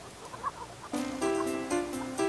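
Chickens cluck in the VGA remake of the video game King's Quest 3, a series of short synthesized, repeated cluck notes in quick rhythmic bursts after a brief quiet stretch, clear and fairly loud.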